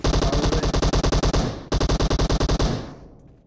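Rapid automatic gunfire from a PUBG Mobile match, loud and close, sustained bursts of evenly spaced shots with a brief break midway before the firing resumes and then trails off.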